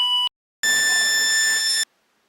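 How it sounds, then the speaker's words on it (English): On a paint manufacturing site, a fire alarm gives a short electronic tone, pauses briefly, then sounds a loud steady high-pitched buzz for just over a second before cutting off to silence. "The fire alarms sound like this."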